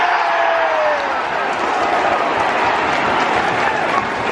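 A football crowd at a Mansfield Town match cheers and claps in a loud, dense, continuous roar of many voices and hands that holds steady throughout.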